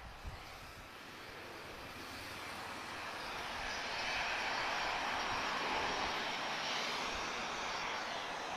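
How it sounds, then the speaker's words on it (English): A Ryanair Boeing 737-800 roars at an airport, the broad jet engine noise swelling steadily from fairly faint to loud, with no voices. "we've got Ryanair now, Foxtrot Romeo 2625, she's off to Ponta Delgada. 737-800 guys."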